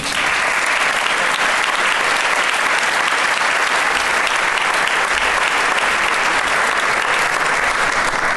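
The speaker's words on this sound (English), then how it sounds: "please give these gentlemen a applause" A crowd applauds steadily at an event honoring oil executive Harold Hamm, the clapping dense and sustained throughout at even loudness.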